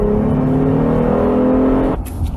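The engine of a 2020 Acura MDX revs with a steady, loud, droning hum heard from inside the car for about two seconds before it cuts off abruptly.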